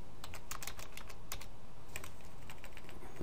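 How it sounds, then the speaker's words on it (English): Computer keyboard keys tapped in quick, uneven bursts, with one keypress on the Insert key, close and fairly quiet, while writing Laravel code, with no talking. "I click the insert."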